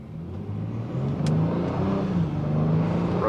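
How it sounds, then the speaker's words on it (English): A 2025 Honda Odyssey Elite minivan with a 3.5-liter engine pulls away, a steady, rising engine drone growing louder over a few seconds with a faint road whir and no talk. "Now let's take a drive in the Honda Odyssey."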